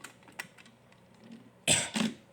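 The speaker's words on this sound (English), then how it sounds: "Thomas was still coughing." Quiet clicks and shuffles, then two short, harsh coughs close by, the second slightly weaker.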